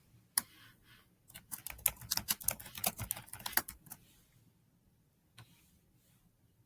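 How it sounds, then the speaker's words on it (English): Quick bursts of keystrokes on a computer keyboard as a comment is typed, clustered clicks in the middle with pauses before and after, close and fairly quiet. "I can type a comment to her as well"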